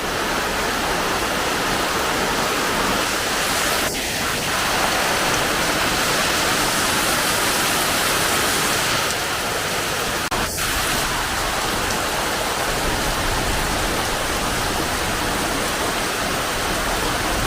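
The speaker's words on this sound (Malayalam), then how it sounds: "രാവിലെ സൂപ്പർ മഴയാണ്, ഇടിയും." Heavy morning rain pours down steadily and loudly at Kuttikkanam, a dense unbroken wash of noise with a couple of faint sharp ticks and no talking.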